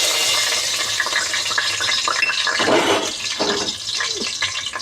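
Cinnamon, cloves and whole spices frying in hot oil in a pan for fish biryani, a steady loud sizzle and crackle with some stirring scrapes, no voices.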